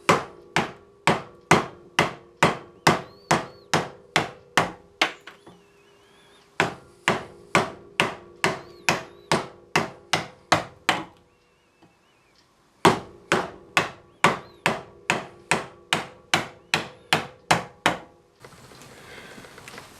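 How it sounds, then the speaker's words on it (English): A big hammer strikes wood in steady, evenly spaced heavy blows while cutting a groove for a coffee table, loud and close, in three runs separated by short pauses. "Try the big hammer."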